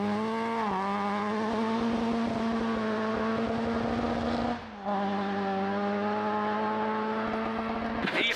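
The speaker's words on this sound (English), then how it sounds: "the bark of their Wales Motorsport RS 1800 could be heard for miles" A Wales Motorsport Ford RS 1800 rally car on the RAC Rally, on black ice and down on revs, drones with a loud, steady engine note that dips briefly midway before returning and holding.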